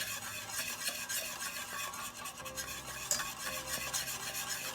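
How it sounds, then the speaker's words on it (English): Semolina is stirred steadily into a thickening filling in a pot on the heat, a continuous scraping and slushing with a faint sizzle beneath and the occasional clink of a utensil against the pan. "I'm going to slowly add my semolina, and I'm going to consistently stir it as I add it in"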